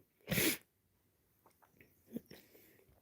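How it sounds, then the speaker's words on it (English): A single sharp, loud sneeze bursts out near the start, followed by soft breathing and faint small mouth noises. "I feel like I'm about to sneeze"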